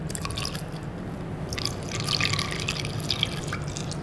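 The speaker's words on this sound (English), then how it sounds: "the next step is to add just enough more water to bring it up to our 5 gallon mark" Water poured into a 5-gallon fermenter jug of wort for home brewing, a steady close splashing and trickling with bubbly gurgles throughout.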